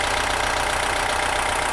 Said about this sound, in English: Let the engine get up to temperature.